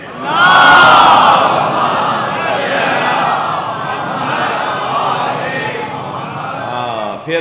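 A large crowd loudly recites salawat in unison, a swelling roar of many voices that holds strong for several seconds.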